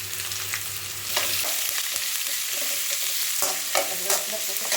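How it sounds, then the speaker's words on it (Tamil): Food sautéing and being stirred in a pan, a constant frying sizzle broken by scraping spoon strokes and small clatters, close and moderately loud with no voices. "நல்லா வதங்க"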